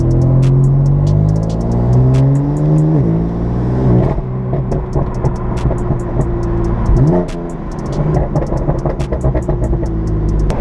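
A BMW M4 engine revs hard from inside the car while driving, climbing through the gears in loud rising sweeps with sharp drops at each shift and pops on lift-off.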